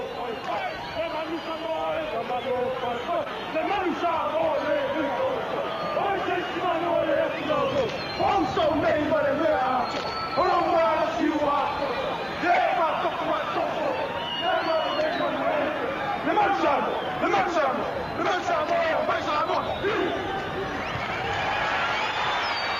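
A big rugby crowd at the Basil Kenyon Stadium in East London during a Western Samoa versus Argentina World Cup match gives a loud, continuous roar of cheering and babble, with a commentator talking over it throughout.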